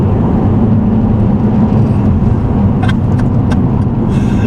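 A loud car engine roars steadily up close, a constant rumbling drone with some faint rattling near the end.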